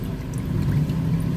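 CVT transmission fluid pours and dribbles out of a Toyota Raize with a 1.5-litre three-cylinder engine, a steady close-up liquid trickle with a low gurgling rush, continuous and alone.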